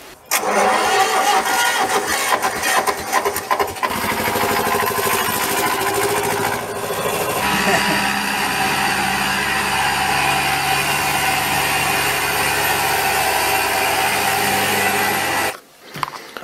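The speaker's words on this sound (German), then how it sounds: "Mein erstes Lieblingswerkzeug ist die Husqvarna 272 XP." A Husqvarna 272 XP chainsaw, over 20 years old and fitted with a 50 cm bar, fires up and runs at a loud, steady roar for most of the stretch, then cuts off near the end.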